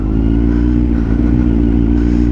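A big bike motorcycle engine runs loud and close, a steady throbbing idle with a slight rise in revs and some mechanical clatter, with no voices over it.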